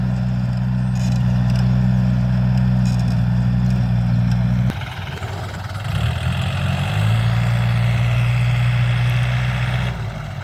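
A Yanmar EF514T tractor with a 4TNV88 four-cylinder direct-injection diesel idles at close range, a steady low rumbling drone that dips briefly midway, then settles back into an even, continuous hum.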